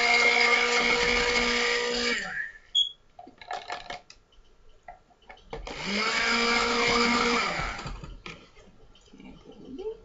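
An electric mixer whirring loudly while blending soap, running in two steady bursts separated by a pause with small clinks and handling sounds.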